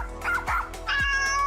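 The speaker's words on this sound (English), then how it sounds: "my cat Kygo and my dog Rhea has something to say" A pet dog gives a couple of sharp barks, then a house cat lets out a drawn-out meow, heard close and clear at home with no talking.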